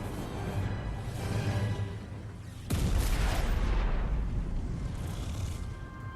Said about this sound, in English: Initiating complete and total explosion.